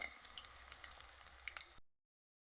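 Cauliflower pakoras frying in hot oil, a steady dense sizzle with small crackling pops running for about two seconds before cutting off, with no voices over it.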